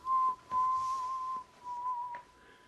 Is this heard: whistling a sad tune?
yes